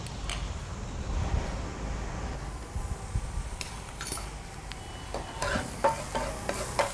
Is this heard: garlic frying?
yes